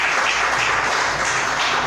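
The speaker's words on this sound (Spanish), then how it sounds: "Denle un aplauso al Señor" A church congregation applauding during a Spanish-language sermon, a dense, even wash of clapping that holds at a constant level throughout with no voices on top.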